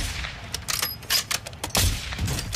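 Rapid bursts of gunfire in Call of Duty DMZ on the Al Mazrah map, several sharp shots cracking in an uneven cluster, fairly close and loud, with no talk over them.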